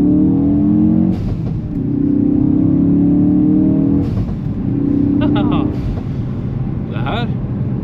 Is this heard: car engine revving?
yes